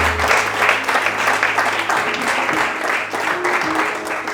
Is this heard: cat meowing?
no